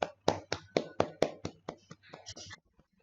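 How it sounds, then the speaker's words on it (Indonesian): A small classroom group clapping hands in a short burst of about ten crisp claps that thin out and fade, near and fairly quiet, with faint voices underneath. "Tepuk tangan untuk Salsa dan Tati."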